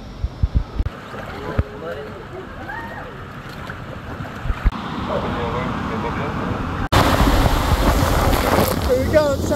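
Rushing water and wind roar past on the Safer water coaster at Siam Park, Tenerife, with splashes and knocks building into a louder, denser surge of spray and voices near the end.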